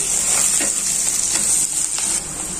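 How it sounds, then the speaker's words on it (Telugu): Two large cut onions frying in a pan for Chettinad chicken give a continuous loud, bright sizzle with occasional soft stirring scrapes, heard up close and alone. "దానికోసమే నేను 2 పెద్ద లావు ఆనియన్స్ని కట్ చేసి పెట్టుకున్నాను. ఇవి కొద్దిగా వేగాలి."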